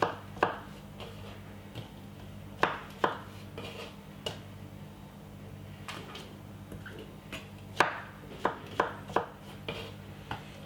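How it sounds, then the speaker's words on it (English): Knife chopping mushrooms and vegetables for couscous, with a series of sharp, close cuts in an irregular rhythm and a couple of quick bursts of several chops together, over a steady low hum. "we're just gonna cut up the mushroom"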